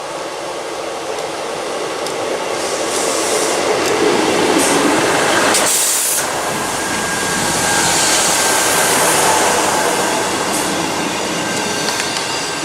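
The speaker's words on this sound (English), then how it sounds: "Now arriving is 158733 again, going to Anniesland from Queen Street." Class 158 diesel train 158733 pulls into a station, a loud, close, sustained rumble and roar of engine and wheels that swells and eases over several seconds.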